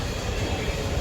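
A low, rumbling drone comes from a train at a railway station on a trip to Guruvayoor. The sound is steady and fairly close, lasting only a brief moment.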